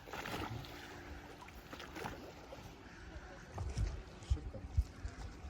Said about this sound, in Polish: Widziałeś jakie motorówkę puszczają?